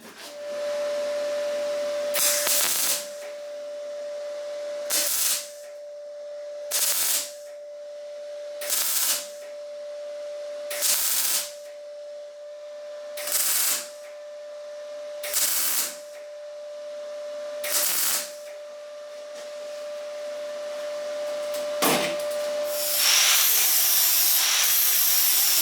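Short bursts of tack welding on the corners of a door skin during an MGB Roadster restoration, about nine evenly spaced crackling zaps, each a second or less, with a steady tone and faint shop noise between them.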